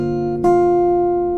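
A single guitar chord strummed once, ringing out loud and sustained with a steady, even decay.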